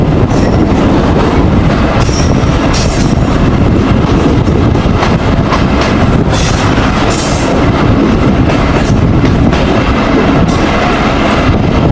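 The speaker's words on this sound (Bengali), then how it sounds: "আমাদের জন্য ক্রসিং হওয়ার পরে ট্রেনটি রাশের উদ্দেশ্যে রওনা দেবে" A passenger train runs on the Rajshahi–Nachole line through a station while waiting on another train to cross, loud and close, with continuous rumble, clickety-clack of wheels over joints and occasional high wheel squeals.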